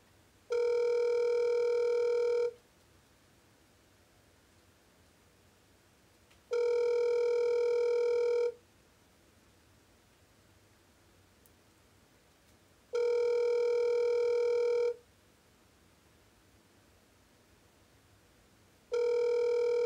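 A telephone call ringing out with a steady two-second ringback tone that repeats four times, separated by pauses of about four seconds of near silence.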